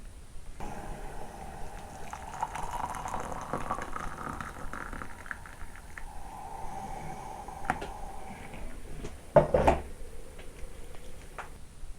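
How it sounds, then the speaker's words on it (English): An electric kettle heats water toward the boil, a faint low rumble building and bubbling softly with scattered ticks, then a brief louder clunk near the end. "let's get the kettle boiled"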